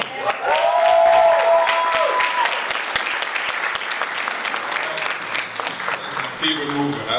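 An audience at a poetry slam breaks into loud applause and cheering, with whoops ringing out early before the clapping thins while a voice talks over the tail end.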